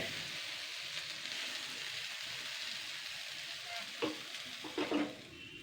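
Eggplant slices with egg cooking in a frying pan, a steady close sizzle throughout with a few louder spatters and scrapes near the end; no talking.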